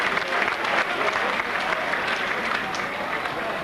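A rugby league stadium crowd at a Bradford versus Wakefield match applauds a player heading to the bench, loud sustained clapping and crowd roar filling the whole stretch.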